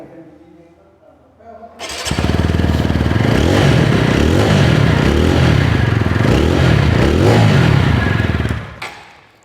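A TVS Apache RTR 160 4V motorcycle engine cranks and fires, then settles into a loud, steady, bassy idle exhaust note close by for several seconds before cutting off.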